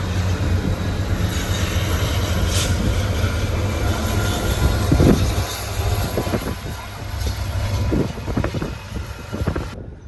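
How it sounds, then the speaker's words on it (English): A heavy loaded oil freight train rolls steadily past with a deep continuous rumble, clattering wheels and occasional metallic squeals and knocks. "we got the ABSR 100 loaded oil train on the move"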